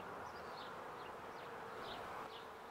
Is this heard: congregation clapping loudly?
no